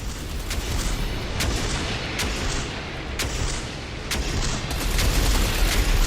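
Torpedo launches and explosions in the space combat game Everspace 2 make a continuous rumbling barrage of booms, with sharp blasts cutting through at intervals over a dense, loud roar.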